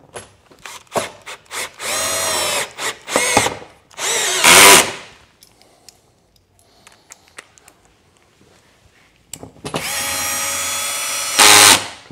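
A cordless power tool drives screws into the front grille of a Dacia Sandero Stepway, whirring in several short bursts and a few longer runs, close and loud, with quiet pauses between.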